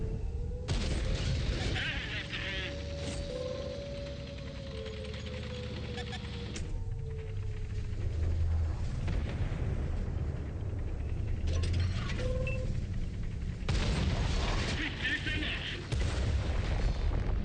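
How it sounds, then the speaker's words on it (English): Video game artillery fire booms out in repeated heavy bursts, with mechanical clanking and a rising tonal whine, while a person talks over much of it throughout. "Hello, artillery."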